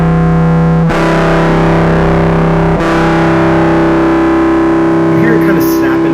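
A loud, distorted two-note interval is held steadily while the top note is bent slightly upward and the tuning settles; there are two brief attack points as the chord is re-struck.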